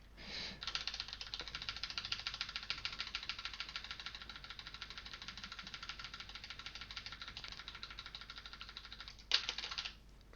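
Rapid, relentless keyboard clacking fills the clip, keys hammered in a dense, steady stream with a brief louder burst near the end.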